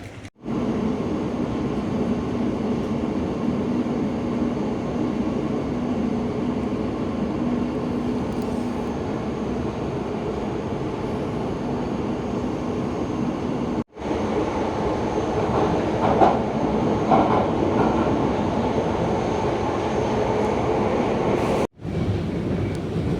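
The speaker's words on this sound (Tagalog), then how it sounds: "So, etong next train." A train arriving at a London station: a long, steady rumble of rolling carriages with faint clickety-clack and a high whine, broken by two brief dropouts, with no talking.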